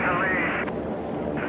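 Racing airplanes at a national championship air race roar past in a steady, loud engine drone, with a race announcer talking over them throughout.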